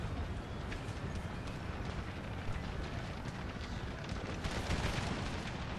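Artillery firing explosive shells in Napoleon: Total War, a dense, continuous rumble of overlapping cannon blasts and battle noise, loud and unbroken throughout with no clear pauses between shots.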